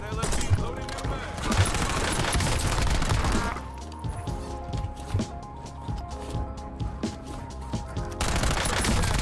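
An LMG in Warzone opens up in loud rapid bursts, pauses for a stretch of quieter footsteps and clatter, then resumes firing, with a voice speaking over part of it.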